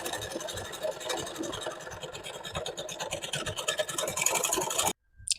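A sewing machine runs long gathering stitches on a peplum top, a rapid rhythmic mechanical clatter that goes on for about five seconds, then stops briefly and gives one short burst.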